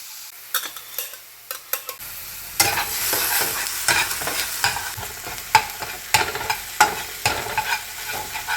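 Ginger, garlic and cumin paste frying in a pan for palak paneer, a steady sizzle with repeated scraping stirs and clinks of a spoon, louder and busier after the first two seconds, with no talk.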